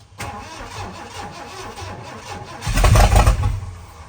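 An engine cranks with a rapid, uneven chugging, then catches and roars to life with a loud burst before settling back slightly.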